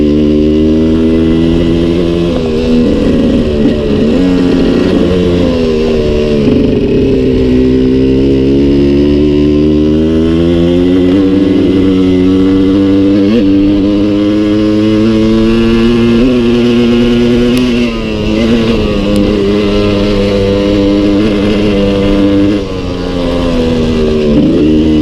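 A Suzuki 125 TSR trail motorcycle ridden off-road on a mountain pass track, its engine droning loud and close with steady rising and falling revs, no voices over it.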